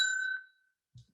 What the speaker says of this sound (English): That's a high bell.